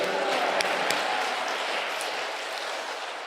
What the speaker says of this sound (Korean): 같이 우리 한번 할렐루야로 하나님께 영광의 박수 한번 돌리겠습니다.